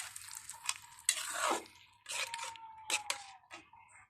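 Pumpkin and shrimp go into a wok of well-browned fried onions, bringing short bursts of sizzling and a stirring scrape against the pan, close by, with quiet gaps between the bursts.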